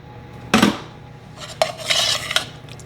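A spoon stirs tomato sauce, made with tomato paste and a little sugar, in a cooking pot. A few sharp scrapes and knocks of utensil against metal stand out over a soft background, with no talking.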